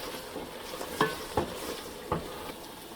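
Beef stir-fried in spice paste and oil sizzles softly and steadily, broken by a few distinct scraping stirs of a spoon against the pan, quiet and close with no talking.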